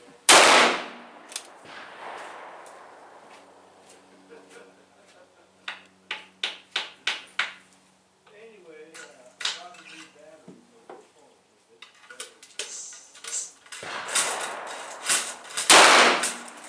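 A Ruger Bisley .44 Magnum revolver fired at a range, two loud sharp reports near the start and end with clanks and handling clatter between, and a voice talking in the middle.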